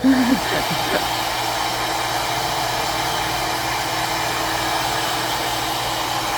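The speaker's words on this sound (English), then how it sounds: "So that's why we blow dry." A handheld hair dryer blows steadily and loudly while hair is being blow-dried, a continuous broadband whoosh with a low motor hum, holding an even level throughout after a brief start.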